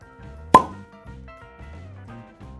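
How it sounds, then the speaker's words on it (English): A cork pops sharply out of a bottle of Stagg bourbon, a single close, crisp plop over a soft background of faint music. "That is the best cork pop we've ever had on this channel"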